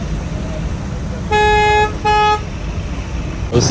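Two loud car horn blasts in quick succession over a steady hum of street traffic in Morocco, followed by a brief clatter near the end.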